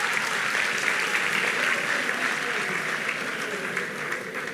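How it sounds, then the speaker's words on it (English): Parents and guests applaud graduates at a technical high school graduation ceremony, steady dense clapping that stays loud and even throughout with no voices over it. "let's give a round of applause for the graduates who will do an item for us."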